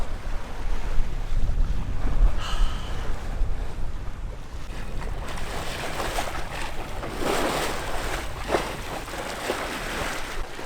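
A sailboat glides over a calm sea in light wind, with a steady wash of water along the hull and soft wind rushing past, fairly quiet and unbroken, no voices.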